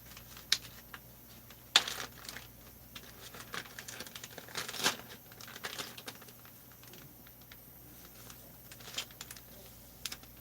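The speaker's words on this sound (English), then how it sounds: "Now it's in a plastic bag." Plastic bag crinkling and rustling as an oiled Stihl 200T chainsaw crankcase is wrapped in it, a quiet run of irregular crackles and soft rustles with a few sharper crinkles, heard alone.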